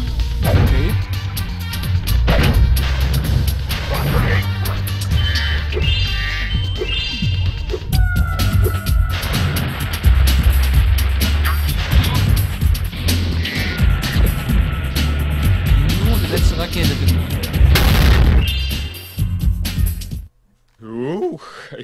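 Rocket explosions in the video game Spyro 3: Year of the Dragon, a dense, loud stretch of booms, crashes and whooshes with game music layered over, continuing for about twenty seconds before abruptly dropping off.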